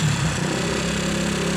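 A Honda CG 160 motorcycle engine with a 7mm piston, freshly rebuilt and still cold, runs with a steady, close, continuous droning hum over a short stretch.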